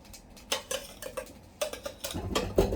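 A metal cooking pot is handled in a kitchen while mackerel is being braised, giving irregular clanks and scrapes of metal on metal. The clatter gets busier and louder toward the end.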